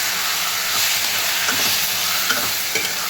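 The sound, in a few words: stir-frying ridge gourd and okra curry in a pan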